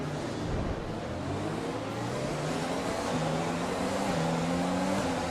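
A Formula 1 race car in the F1 2020 game holds a steady high engine whine on a straight, with rising and shifting engine tones, continuous and close, on its own.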